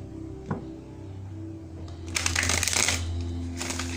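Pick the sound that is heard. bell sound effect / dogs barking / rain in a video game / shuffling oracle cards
shuffling oracle cards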